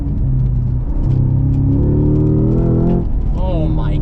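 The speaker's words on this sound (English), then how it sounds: "Supercharged V8 manual, it does not get much better than that" A Cadillac CT5-V Blackwing's supercharged V8 with a manual gearbox, close and loud, a deep rumble that rises steadily in pitch as it revs up, then drops off, with a voice coming in at the end.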